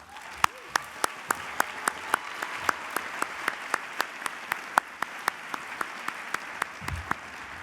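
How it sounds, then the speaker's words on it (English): Applause for finalists at an awards lunch: sparse, sharp individual claps in a regular rhythm, close and distinct against a quiet room, with faint murmuring beneath. "give them a round of applause"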